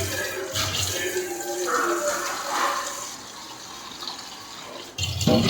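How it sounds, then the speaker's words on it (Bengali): Water runs from a tap into a container in a home kitchen, a steady close rush and gurgle that shifts in tone as the vessel fills, then cuts off with a clunk. "জল নিলাম"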